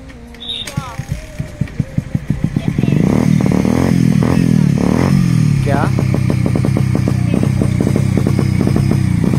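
A motorcycle is heard close by, first with sputtering idle pulses and then revving into a loud, steady engine roar, while people talk over it.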